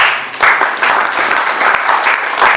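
Church congregation clapping for Jesus at a Christian gathering, a dense burst of applause filling the room, steady and fairly loud with small surges, no voice over it.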